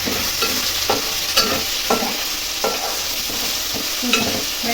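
Sliced ginger sizzles in hot oil in a pan for a banana curry while a spoon scrapes and stirs it, with steady frying hiss and regular stirring clinks and scrapes close by, no talking.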